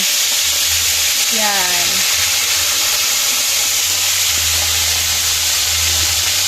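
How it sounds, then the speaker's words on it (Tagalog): Pinakbet vegetables and ingredients fry in hot oil in a covered pan, giving a continuous loud sizzling hiss with a brief clatter early on and a low background hum, while a voice speaks briefly. "bali nagpiprito na po si mama"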